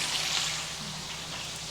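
Fish sizzling steadily in hot oil in a skillet, a dense continuous hiss close up with no voices over it.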